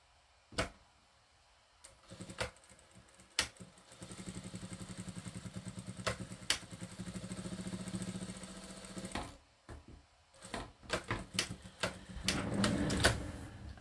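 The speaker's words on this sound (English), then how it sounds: "So I'm going to stitch that from one edge to the other, and that should almost fill that corner up" A Jack A6F sewing machine stitches a Yazzi bag from edge to edge in bursts of rapid mechanical whirring, with sharp clicks and knocks between the runs and a longer continuous stitching stretch in the middle.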